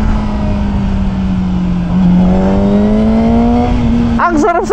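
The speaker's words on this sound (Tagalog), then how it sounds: "Stock exhaust lang to pero appreciated ko yung tunog niya eh. Parang jet." A Kove 450RR motorcycle on its stock exhaust holds a loud, steady, jet-like drone that climbs slightly in pitch as it revs, with a short burst of nearby talk at the end.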